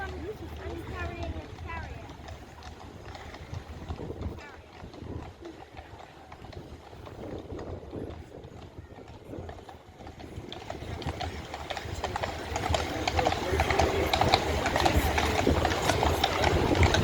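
King's Troop Royal Horse Artillery horses in a VE Day 80th anniversary military procession clatter with a steady, dense drumming of hooves amid loud outdoor crowd and vehicle noise, with talking throughout.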